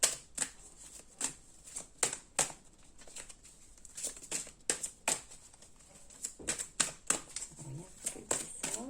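A deck of cards is shuffled by hand for a card reading, with sharp, irregular riffles and flicks in quick bursts, close and fairly quiet.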